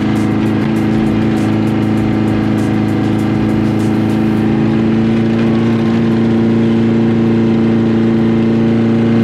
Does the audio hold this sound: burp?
no